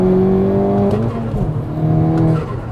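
A tuned Cupra engine revs hard and climbs in pitch as it launches, then shifts and keeps pulling, loud and close.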